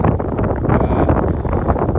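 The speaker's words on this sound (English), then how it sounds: "It's kind of windy out here too." Wind buffets the microphone outdoors, a continuous low roaring rumble that gusts slightly without letting up.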